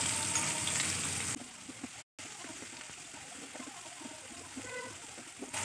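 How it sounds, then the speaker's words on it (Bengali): Chopped onion with a little salt frying in hot oil in a pan, a loud steady sizzle at first that drops to a softer, crackling hiss with small pops. "প্রথমে আমি দিয়ে দিচ্ছি পেঁয়াজ কুচি।"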